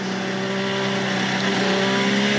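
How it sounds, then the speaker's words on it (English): A Formula 1 car rolls slowly around the track at Canadian Grand Prix practice, its engine a steady, loud, close droning tone that swells slightly toward the end, heard alone. "This is the sound of Sergio Perez going quite slowly"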